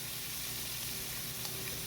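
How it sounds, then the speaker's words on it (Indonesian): Pieces of fish frying in oil over medium heat, a steady, close sizzle filling the whole moment with no voices. "Goreng dengan api yang sedang saja ya teman-teman."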